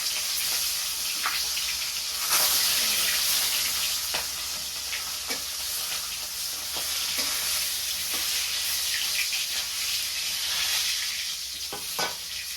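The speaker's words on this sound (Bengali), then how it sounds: "কড়াই তেল তো তাপ হয়ে গেছে গা, এখন মাছ দিয়ে দিই।" Fish fries in hot oil in a wok with a loud, steady sizzle and crackle, close up, broken by occasional sharp pops and spatters, with no voices.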